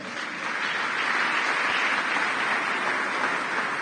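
A church congregation claps and applauds during an evangelical service, a dense, steady wash of many hands that swells after the first half-second and holds loud and unbroken to the end.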